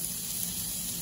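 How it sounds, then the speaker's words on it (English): Cream sauce with mushrooms simmering in a pan for T-bone steak, giving a soft, steady sizzle and bubbling hiss throughout a brief moment, close and even, with no voices. "we're gonna add now, just like that, our cream, and we're gonna let that start simmering"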